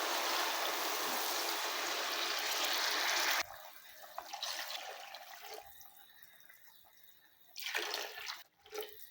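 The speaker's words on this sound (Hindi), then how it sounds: "3 गिलास पानी हमने डाल दिया।" Water poured from a glass into a cooking pot for rice, a steady broadband splash for a few seconds, then quieter intermittent trickles and pours close by, no talk.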